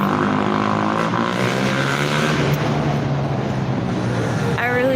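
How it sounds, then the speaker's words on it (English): Heavy road traffic with motorcycles passing: a loud, continuous engine drone with humming tones, steady throughout, and a rising whine near the end as one machine goes by. "I really hate traffic, like the sound of it, but then it's the motorcyclists that are getting me."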